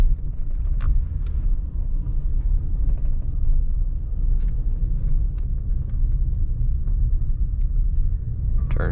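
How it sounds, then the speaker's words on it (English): A 1984 Buick Riviera driving and making a U-turn, its engine giving a steady, close, low rumble with road noise throughout and a few faint clicks and knocks over the top. "We'll go ahead and pull in here and make a U-turn."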